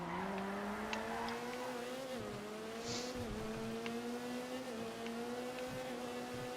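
An Ubermacht Sentinel Classic Widebody drives in GTA Online, its engine holding a steady drone with small pitch dips at gear changes, continuous and fairly quiet without speech.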